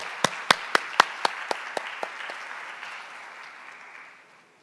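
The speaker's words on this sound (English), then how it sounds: "please give a big applause" Conference audience claps for presenters: a few distinct, sharp claps stand out at first, spaced almost evenly, then blur into softer scattered applause that gradually fades to quiet.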